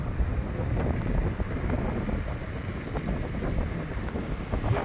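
Strong side wind buffets the microphone while riding an Askmy U15 Max electric scooter, a steady, roaring rumble with gusty low-end thumps throughout, no voices.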